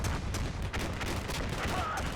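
Gunfire from the wargame Combat Mission Black Sea, with Bradley vehicles in the fight, crackles as a dense, fairly faint string of rapid shots and bursts, with a voice talking faintly underneath.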